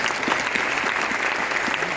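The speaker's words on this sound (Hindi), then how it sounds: "तो कैसा ताली होनी चाहिए बताइए।" A steady round of clapping from an audience at a business meeting, many hands beating in a dense, even rhythm throughout at moderate loudness.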